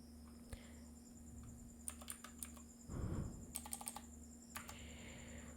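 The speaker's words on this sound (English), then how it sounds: "in this search widget you have to type here" Keystrokes on a computer keyboard tap out in short clustered bursts, with a brief soft rustle in between, over a steady low electrical hum in a quiet room.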